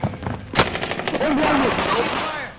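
Loud automatic gunfire crackles in a video game, with rapid bursts and a few heavy single shots, close and dense, and a voice partly under it.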